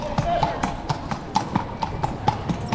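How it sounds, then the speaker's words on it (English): Horse hooves clip-clopping at a steady walking rhythm as a horse and carriage moves through the streets of Seville, Spain, with people talking over the hoofbeats. "Got to do a trip on a horse and cart around"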